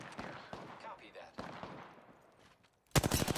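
Automatic weapons fire during an Apex Legends match on PS4: scattered shots early on, then a loud, dense rapid volley at the end, with a voice talking underneath.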